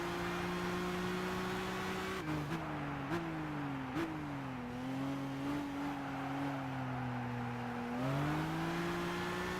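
Nissan GT-R engine in the Gran Turismo 6 racing game, a steady loud droning hum that holds through the clip, its pitch dipping and shifting with several abrupt gear-change steps, no talking over it.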